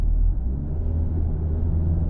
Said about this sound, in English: It's a pretty loud engine for around 180 horsepower tethered.